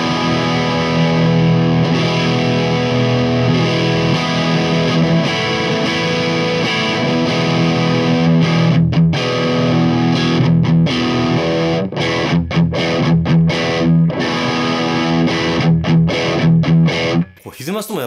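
Gibson Les Paul Special with P90 pickups played through heavier distortion, a thick sustained overdriven tone with steady chords and riffs close and loud, ending abruptly.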